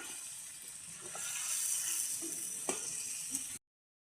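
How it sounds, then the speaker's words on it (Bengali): Potatoes and radish frying in a pan, giving a soft, steady sizzle with a couple of faint clicks and knocks before it cuts off abruptly. "এবার দিয়ে দেবে আলু আর মূলা। এবার এটা ভালো মতন কষায় নেবে।"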